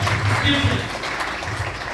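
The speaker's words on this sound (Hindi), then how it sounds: "तालियां" Audience applause at a hotel training program in Jammu, a steady wash of clapping lasting about two seconds, fairly loud with voices mixed underneath.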